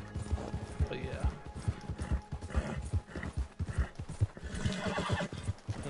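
In the Red Dead Redemption 2 video game, a horse's hooves clip-clop in a steady close rhythm while the horse lets out a sharp neigh near the start, with a person talking over the gameplay.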